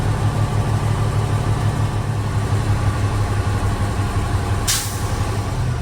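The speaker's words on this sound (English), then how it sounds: "Now I will build to full pressure between 120 and 140 PSI, maintaining 1200 to 1400 RPMs." A truck engine idles high and steady at 1200 to 1400 RPM, building air brake pressure toward 120 to 140 PSI, with a low rumble throughout and a sharp hiss of air near the end.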